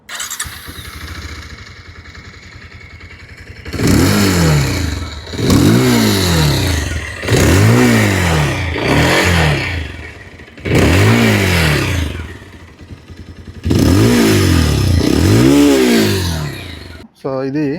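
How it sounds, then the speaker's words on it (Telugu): Bajaj Pulsar 220F motorcycle with the new LED headlamp, its engine starting and then revved in five strong bursts that rise and fall with pauses between, loud and close with the exhaust note prominent. "ఈ సరికొత్త Bajaj Pulsar 220F new LED head lamp వేరియంట్ని ఒకసారి ఇంజన్ నోట్ ఎగ్జాస్ట్ సౌండ్ అయితే ఒకసారి చూద్దాం"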